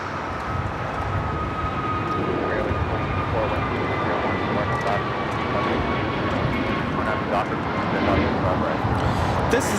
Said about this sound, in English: American Airlines 1105 taking off to Charlotte on the A321neo.